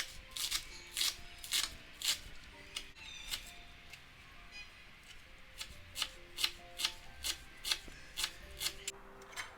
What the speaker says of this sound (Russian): Теперь нарежу зелень.